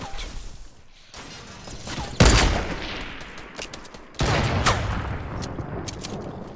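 Gunfire in the video game Fortnite, bursts of shots aimed at the players, loud volleys with sharp crashes and rattling reports coming in waves.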